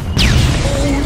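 An old frog in an Aesop fable, puffed up again and again, bursts with a loud bang: a sharp burst followed by a short descending whistle-like tone and lingering sound effects.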